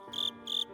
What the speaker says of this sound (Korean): 그때 열려진 창 저편으로부터 귀뚜라미 소리가 들려왔다